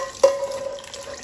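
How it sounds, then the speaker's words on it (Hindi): Water is poured into a cooking pot for potato and pea pulao: a short splash at the start, then a steady, close pouring sound with no talking. "अब ये पानी इसके अंदर डाल देंगे"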